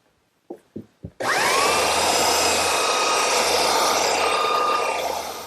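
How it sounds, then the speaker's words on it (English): A few sharp clacks open, then a belt sander starts and runs loud and steady, whining evenly as it smooths a glued-up wood panel before easing slightly at the end. "And now I'll smooth it all out with my belt sander."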